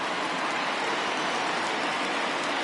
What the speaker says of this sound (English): I don't know how much more rain this field can take